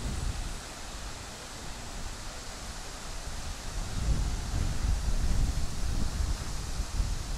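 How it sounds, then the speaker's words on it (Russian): Strong wind roars and buffets the microphone continuously at the Proryv memorial complex in Ushachy District, growing louder and gustier partway through. "Очень сильный ветер, извиняюсь, если будет плохо меня слышно"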